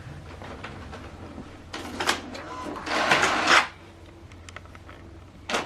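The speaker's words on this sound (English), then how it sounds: "Now this document is printing." An HP DeskJet 3700-series inkjet printer prints a document, giving a low mechanical whir with a louder sustained rush of paper feed and carriage movement partway through, then a brief clunk near the end.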